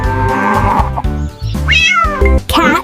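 A cat meows several times in quick succession, loud and close, with drawn-out, rising and falling cries and a sharper final call, heard alone with no talking.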